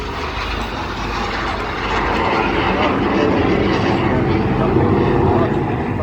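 A BAC Strikemaster jet, a former Royal Air Force of Oman aircraft, makes a flying display at the Eastbourne Airshow, its engine a broad, steady roar that swells over several seconds while a commentator talks over it.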